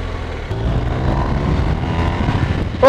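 A 2019 BMW R1250RS motorcycle being ridden on the road, its steady engine drone loud and close with wind noise, and a brief sharp sound at the very end.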